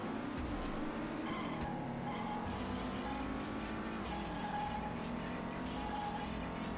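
A hot rod's engine roars steadily in the San Francisco Rush 2049 arcade racing game, rising and falling in pitch as it accelerates and shifts, loud and continuous with faint skidding.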